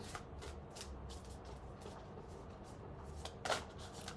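Playing cards being shuffled at a casual card-game catch-up, a soft papery riffling that runs faintly through the whole stretch and ends in a brief, sharper flurry of cards near the end.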